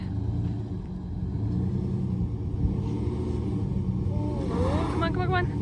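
Pickup truck engine rumbles and strains while pulling a stuck vehicle free, a continuous low roar with voices talking over it and a brief high squeal near the end.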